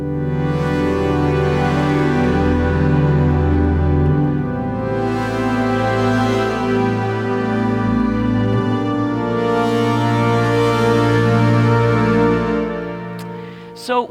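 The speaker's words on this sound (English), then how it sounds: "So I'm going to play a sound from the Montage and the new operating system right here." Yamaha Montage synthesizer running its Polysynth patch on a new operating system, a dense sustained chord pad with slow sweeping swells and drifting oscillators, holding steadily for about thirteen seconds before a short clipped ending.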